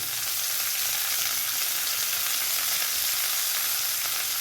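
Cauliflower and potato pieces fry in a pan with turmeric, producing a loud, dense, continuous sizzle with no pauses and no voices.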